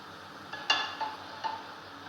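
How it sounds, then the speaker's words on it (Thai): A soft, steady sizzle of an egg frying in a pan, with a few faint scraping clinks of a utensil. "ทอดจนไข่สุกดีก็จะตักใส่จานเลยค่ะ"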